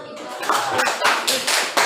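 A classroom group of teacher trainees claps hands in a short, close burst of irregular claps, with some voices mixed in.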